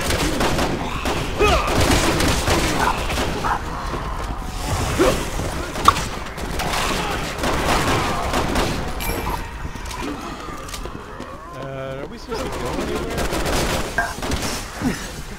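Pistol fire in Resident Evil 6 during a co-op Leon chapter gun shop scene: sharp repeated shots and impacts scattered through busy game noise, with whooshes and crashing debris, moderately loud throughout.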